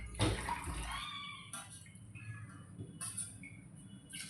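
Water poured from a tumbler into a pot of rice for biryani, a loud splashing pour at the start followed by a few shorter splashes as more tumblers are added.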